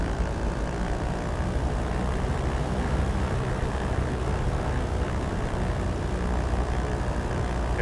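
Propeller engines of a simulated Britten-Norman Trislander taxiing at Alderney airport, a steady droning hum with broadband rumble and no voices, continuous and even for the whole stretch.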